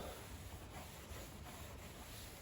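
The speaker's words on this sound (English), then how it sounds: "slowly rub it down, and then with a clean rag, just wipe it off" Steady rubbing of a rag or pad over a car's painted clear-coat surface, a soft continuous scrubbing hiss with faint rhythmic strokes, very quiet and close.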